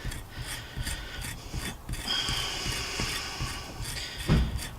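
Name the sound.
fluffing up jute twine fibres with an ESEE 6 knife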